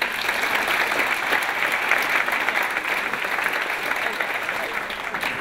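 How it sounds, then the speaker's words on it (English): Warm applause from students and guests at a school Q&A event welcoming Dr. Morris, continuous brisk clapping from a room full of people, evenly loud across the stretch. "Please join us in a round of applause for Ebony's mom"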